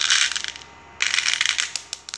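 Small plastic beads breaking away from hardened slime and scattering, a dense crisp rattling patter in bursts with a brief lull, close and without talk.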